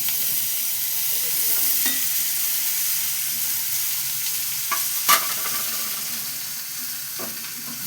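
Chopped bottle gourd sizzling in hot oil with panch phoron for a gourd shukto, a steady frying hiss with a few sharp pops and spatters scattered throughout, close and moderately loud.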